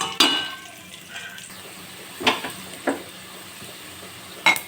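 Onions fry gently in a pan for fish curry, a soft sizzle running under a few sharp scrapes and clinks from the stirring spoon, and nobody speaking.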